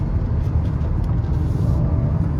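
A car engine holds high revs while cruising on a highway, a dense steady drone and road rumble heard from inside the cabin.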